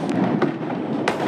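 Firecrackers burst during a family Diwali celebration, three sharp cracks spaced irregularly across a short span over a continuous crackling background hiss, loud and nearby with no talk.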